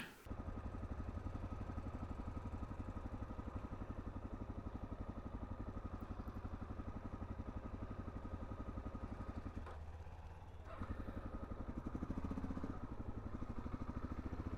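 A Suzuki DR-Z400 single-cylinder motorcycle idles with a steady, rapid thumping rumble that continues throughout, faint and fairly distant, with a brief dip partway through before the engine note carries on unchanged.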